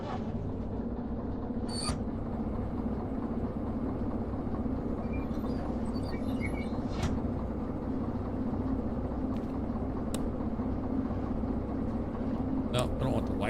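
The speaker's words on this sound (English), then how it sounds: "All right, we're on the train." A train in a train driving video game runs with a steady low rumble and hum, with occasional clicks and brief high squeaks, while a voice talks over it.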